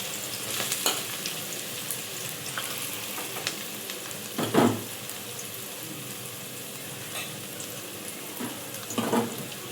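A medium onion sizzles steadily in a pan, a continuous frying hiss with a few louder stirring scrapes and brief splashy bursts, close by and alone.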